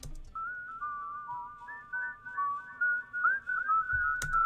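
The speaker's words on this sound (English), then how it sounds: "this is the whistle that I got back from him" A clean recorded whistled melody in a song-making setting plays alone, one clear voice gliding and sliding between sustained notes in phrases over a faint background, ending with a brief knock.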